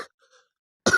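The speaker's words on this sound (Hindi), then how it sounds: "थोड़ा खांसी आ गई है, सॉरी" A single short cough bursts out abruptly after a moment of near silence, close and fairly loud, from a teacher pausing mid-lesson.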